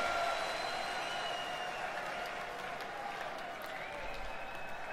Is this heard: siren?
no